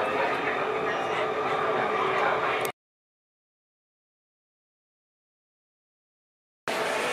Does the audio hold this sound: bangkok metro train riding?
yes